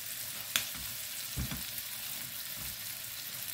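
Shrimp frying in butter with spices, a steady sizzle in the pan with a couple of soft knocks from a utensil, no voices over it.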